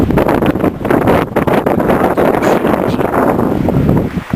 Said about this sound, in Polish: widać jak się z każdą chwilą się wiatr zmaga